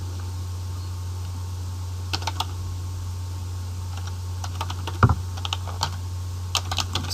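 A project name typed on a computer keyboard, scattered clusters of crisp key clicks over a steady low fan-like hum, no voices.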